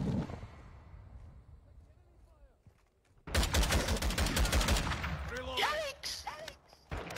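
Rapid bursts of gunfire in a Call of Duty multiplayer match erupt loudly after a quieter stretch, with a voice speaking briefly over the shooting.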